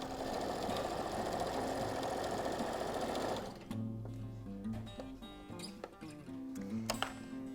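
A sewing machine runs steadily while stitching a denim tablet sleeve made from old jeans, a dense mechanical whir for a few seconds that then breaks into shorter, stop-start bursts with small clicks between them.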